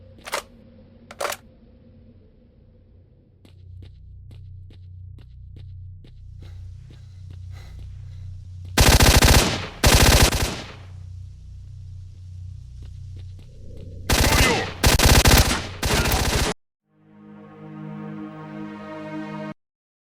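Several loud bursts of gunfire from S.T.A.L.K.E.R.: Shadow of Chornobyl, a couple of clustered volleys separated by quieter footsteps and ambient game noise, with no speech.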